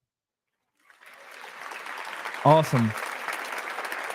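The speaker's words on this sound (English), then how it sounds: "Let's give another round of applause for Juan." Applause for a guest on a live Dallas Cowboys fan show begins after a second of silence and builds into a steady patter of clapping, while someone briefly speaks over it.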